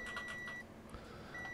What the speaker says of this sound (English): Checking the bleeper or the buzzer.